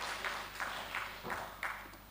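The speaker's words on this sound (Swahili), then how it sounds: "Tupige makofi mengi kwa Chuo Kikuu cha Dar es Salaam." Scattered, fairly quiet applause for the University of Dar es Salaam at a golden jubilee ceremony, coming in several soft rippling waves of clapping from a distant crowd.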